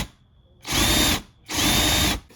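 A cordless drill with a large flat screw bit bores into BMW X3/X4 F25 F26 front driver's door interior trim, two loud sustained whirring bursts close up, separated by a brief pause.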